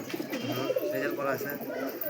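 Pigeons kept for sale in a loft coo in a continuous, close, layered murmur of throaty calls, several birds overlapping throughout.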